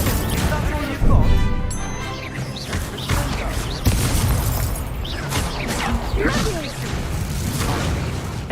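An Incendio fire spell in a wizard video game: a dense, loud barrage of whooshing bursts, crashes and impacts that goes on continuously, with a voice speaking intermittently over the din.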